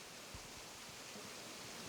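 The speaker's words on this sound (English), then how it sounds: "You can see there's a waterfall." Waterfall in the Animal Crossing video game island, a soft, steady rushing hiss of falling water that stays even and continuous throughout, quiet and unbroken, with no voices over it.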